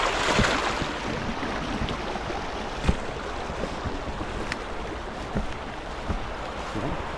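A rain-swollen river in flood rushes past a fishing spot where a new net is being cast, its strong current making a steady, loud roar of churning water with wind buffeting the microphone.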